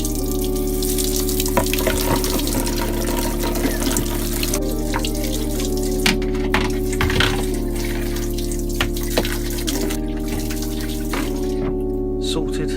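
Tap water runs steadily into a sink while a dirty tray is washed, with a continuous close gush and occasional splashes and knocks over a constant low electrical hum.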